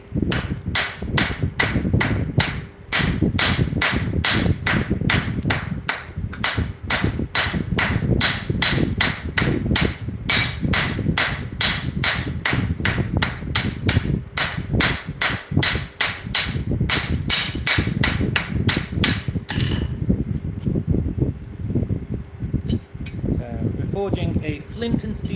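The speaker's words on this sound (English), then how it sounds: "Forging a flint and steel striker at the minute." Hammer blows ring out in a steady, rapid series while forging a flint and steel striker, close and loud, with voices talking underneath; the hammering stops near the end, leaving quieter shop noise.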